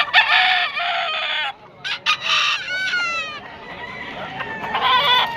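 Several game roosters crowing at a pet market in Malabon, including a Kanaway straight comb stag; repeated loud, near crows with harsh harmonic calls and brief clucks between, no talk.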